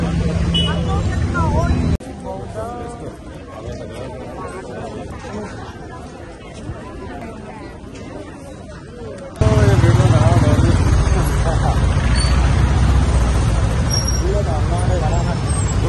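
Busy city road traffic rumbles as a jam clears in Kathmandu, with motorcycles, cars and heavy vehicles passing, a quieter stretch in the middle, then a sudden louder surge of close engine noise; people talk in the background.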